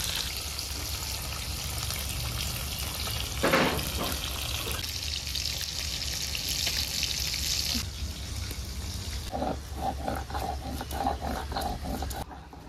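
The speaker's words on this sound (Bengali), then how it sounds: "আলুগুলো ছিলবো, আর ওদিকে মাছ ভাজা হয়ে যাবে।" Rohu fish frying in hot oil in a home kitchen, a continuous soft crackling sizzle at moderate level, with some clinking and kitchen movement partway through.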